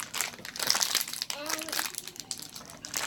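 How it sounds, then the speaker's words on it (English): A plastic bag holding a Funko vinyl mystery mini is torn open, giving a close, steady crinkling and crunching of thin plastic for a few seconds while a voice is heard. "Okay, let me open this bag."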